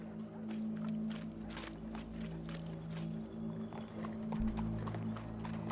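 Rhythmic hoof clip-clops of a horse walking in Red Dead Redemption 2, steady and fairly close, over a low constant hum.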